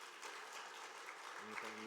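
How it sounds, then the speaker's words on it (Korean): Church congregation applauding during a Christmas service, a continuous wash of many hands clapping at moderate level, with a brief tonal sound near the end. "우리 박수로 축복하겠습니다."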